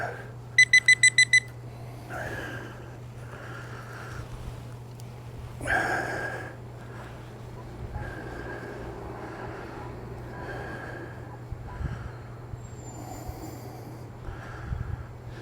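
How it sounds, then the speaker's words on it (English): A Nokta Legend metal detector gives a quick run of sharp electronic beeps, then a wavering overload tone that pulses on and off over a steady low electrical hum as it passes over a plug of soil. "it keeps like overloading when I'm going over the plug"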